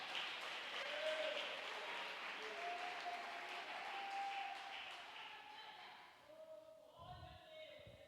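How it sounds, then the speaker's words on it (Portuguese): A church congregation at a Pentecostal healing and deliverance service applauds in a sustained wash of clapping that fades near the end, with faint tonal sounds from the room. "Palmas para Ele, igreja de Deus."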